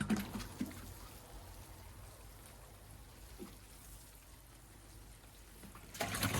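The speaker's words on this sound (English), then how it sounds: "we're just going to water this in lightly" Water trickles and pours softly onto freshly planted garlic in garden soil, a faint, steady light sprinkle close by, with a couple of brief splashes at the start and end.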